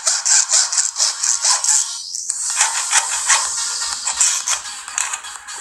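A hacksaw blade coated in thick paste cuts through the material, a close, repeated rasping back-and-forth with a brief pause partway through, with no speech.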